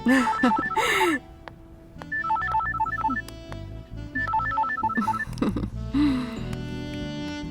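A telephone rings in a Hindi action film scene: electronic warbling rings come in three evenly spaced bursts, fairly close and clear, with brief voices and background score between them.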